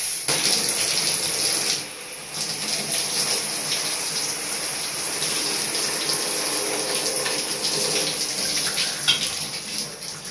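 Cold water pouring steadily from a tap, a continuous close hiss and gush that dips briefly and then runs on unbroken.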